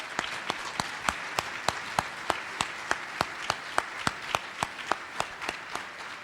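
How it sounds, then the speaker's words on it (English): A small audience at a panel discussion gives a round of applause, with sharp, individual claps in a fairly regular rhythm over a thin background of scattered hands, close and moderately loud. "let's give them a huge round of applause"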